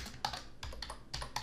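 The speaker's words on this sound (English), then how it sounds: "let's press Enter on our keyboard, and let's name this Color" Typing on a computer keyboard, several quick close-up key clicks in irregular bursts over about a second and a half, quiet and alone without talk.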